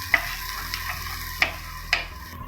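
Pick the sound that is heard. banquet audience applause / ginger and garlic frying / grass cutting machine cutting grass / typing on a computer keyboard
ginger and garlic frying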